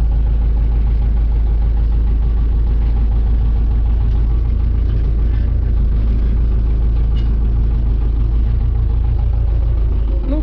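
Tractor engine idling and running steadily in winter, a continuous loud low rumble with constant vibration throughout, no talk.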